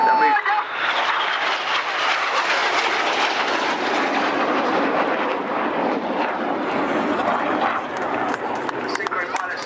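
Jet aircraft in formation descend at the Cosford airshow, producing a loud, sustained roaring rush that fills the whole stretch, with an announcer speaking over the public address.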